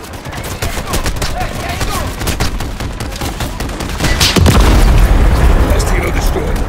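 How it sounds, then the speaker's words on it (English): Heavy gunfire and booming explosions as a helicopter is shot down in a Call of Duty MW3 campaign battle, dense continuous blasts and shots that swell louder toward the end, with voices heard in the mix. "Last helo destroyed."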